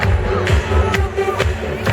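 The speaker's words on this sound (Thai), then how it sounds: "อยากให้ทุกคนปรบมือไปกับผม" An auto show crowd at Mega Bangna claps along in steady rhythm to a live song, sharp regular claps over loud music and crowd noise.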